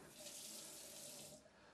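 Cold water running from a bathroom tap into a sink, a steady close splashing rush that holds for under two seconds and then tapers off, with no voices.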